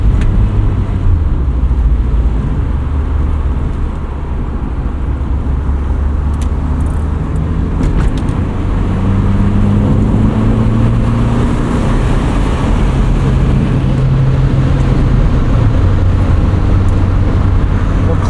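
A 1979 first-generation Honda Prelude engine drones while driving, a loud steady low rumble with road noise, its pitch stepping up and down with gear shifts over about eighteen seconds.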